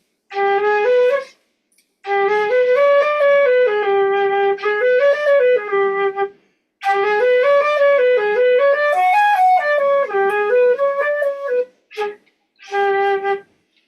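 A lone saxophone improvises a jazzy melodic line in a mode with a flatted fifth, in several bursts separated by short breaths, notes sliding and bending, played close and clear without accompaniment.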